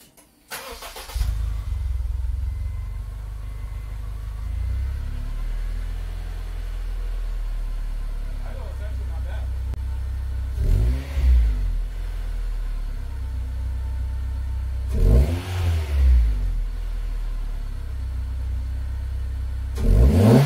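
A Honda CR-V fresh from exhaust work starts up and idles with a steady low rumble, then gives three short, deep revs spaced several seconds apart, close by and loud.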